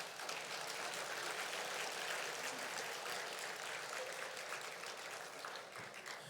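A church congregation claps during a Sunday service: dense, steady applause for about six seconds that eases off slightly near the end, with no voices over it.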